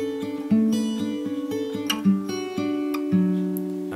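Fingerpicked acoustic guitar plays the Scarborough Fair intro, a clear, close, steady pattern of plucked notes ringing over a sustained bass, with no voices.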